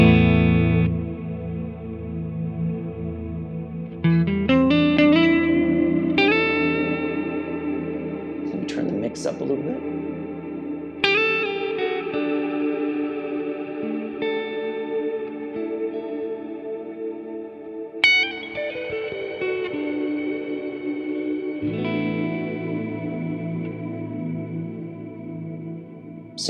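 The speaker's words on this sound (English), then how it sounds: "So that's the cloud reverb." Electric guitar through a Lekato TANK-G modeler with cloud reverb, sustained chords and single notes trailing into a long wash of ambience, with someone briefly talking over the playing.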